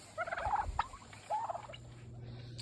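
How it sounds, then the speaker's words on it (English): Turkeys gobble in two short, rattling bursts a moment apart, fairly close and clear against a quiet low hum. "Turkeys and chickens will eat the bean strings."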